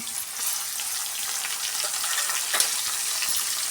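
Tomato dropped into a pan of fried cashews and peas, a loud, steady sizzle and crackle heard close up, with a slight clink partway through.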